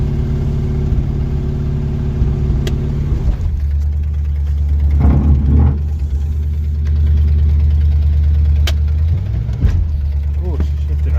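Cold 1979 Camaro Z28 engine idling steadily while warming up after long storage, a loud low rumble with a brief rise in revs midway, then settling back to idle.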